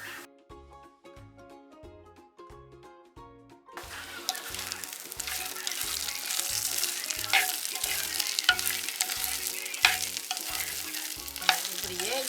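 Broad beans hit a hot pan of cumin for a Jaffna-style peratal and burst into a loud, steady sizzle after a few seconds of quiet. The frying carries on beneath rhythmic background music, with occasional stirring clinks.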